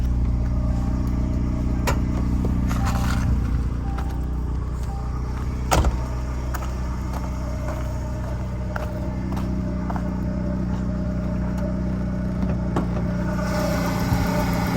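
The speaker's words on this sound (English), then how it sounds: "This Turbo 4 is not loud." A 1988 Ford Thunderbird Turbo Coupe's 2.3 liter turbocharged four-cylinder idles in a steady, quiet low hum, heard from inside the car, with occasional small clicks and no talking.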